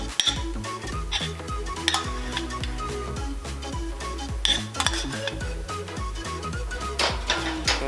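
Rice being stirred into a beef skillet on the stove, with a utensil scraping and clinking against the pan in a steady rhythm over a low background sizzle. No talking.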